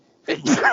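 One close, loud sneeze erupts from quiet, a quick intake followed by a sharp burst that trails into a voiced tail.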